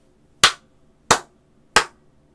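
Three sharp hand claps, crisp and evenly spaced about two-thirds of a second apart, ring out in an otherwise quiet room.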